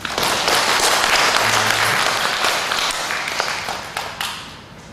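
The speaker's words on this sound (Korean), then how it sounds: "축원의 박수 한번 드리겠습니다." Church congregation breaking into applause, a loud, dense burst of many hands clapping close by that holds for a few seconds, then thins and tapers off with scattered final claps.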